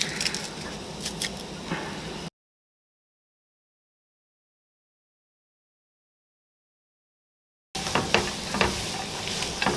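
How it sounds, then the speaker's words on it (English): Sliced mushrooms and two cloves of garlic sweat in a pan and are stirred now and then. Soft sizzling and wet, squishy stirring scrapes come up close, then break off into a long silent gap before the sizzle returns. "I'm gonna let these sweat down for about 5 minutes, giving them a stir occasionally"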